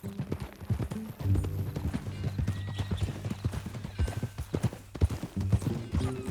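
Rhythmic clip-clop of horse hooves plods steadily throughout in the video game Red Dead Redemption 2, with a whinny mixed in and faint voices in the background.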